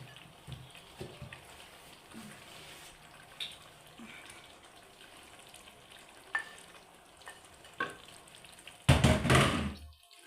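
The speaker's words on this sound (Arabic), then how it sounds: "انا دابا نحرك هذا البيض هذا باش ما يسقليش" Eggs being stirred in a pan while preparing chicken pastilla: faint, steady cooking noise with occasional scrapes, ending in a louder burst of sizzling or rattling near the end.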